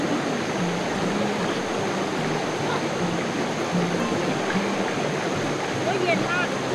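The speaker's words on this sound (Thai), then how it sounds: "สาดน้ำ" Water is splashed and thrown in Mae Kampong, Chiang Mai, producing a continuous broad rushing wash with scattered bursts of spray, fairly loud and close, without clear speech over it.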